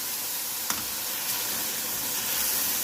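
Garlic, cumin seeds and black peppercorns sizzle in hot oil for a Lahori beef karahi, giving a steady, close hiss with a couple of faint pops and no talking.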